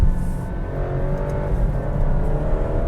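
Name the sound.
2023 Alfa Romeo Stelvio Estrema 2-liter turbo accelerating, lower gear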